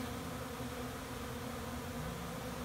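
Honey bees from a backyard hive buzz continuously around the listener, a dense steady drone at moderate volume with no talk over it.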